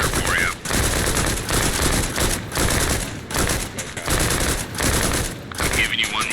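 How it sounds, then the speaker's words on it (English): In a military video game, loud, sustained automatic gunfire rattles in dense overlapping bursts with only brief pauses, and voices can be faintly heard beneath it. "We got Bubba and Fail putting down a lot of fire for you."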